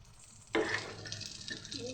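Chicken pakora pieces frying in hot oil, a steady close hiss and crackle that swells suddenly partway through as more batter goes in, then keeps sizzling evenly.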